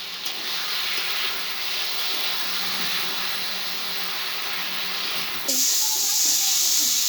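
Fried pointed gourd pieces sauté in a cooked spice paste in a pan, giving a steady, close sizzling hiss that grows slightly louder and brighter near the end.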